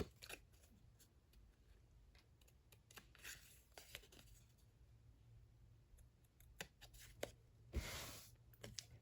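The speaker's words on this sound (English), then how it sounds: "And now I'm going to just give that a bit of a straight cut there." Scissors snipping cardstock to trim a DIY spool card, a run of quiet, sparse clicks and short cuts close by, with a brighter burst of cutting near the end and no talking.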